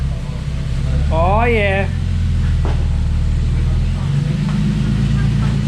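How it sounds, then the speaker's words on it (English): A car pulling away in first gear after a clutch repair, steady low engine drone throughout with a brief rising whine, and someone speaking briefly over it. "we're going to check to see if our clutch works. Just go to first gear."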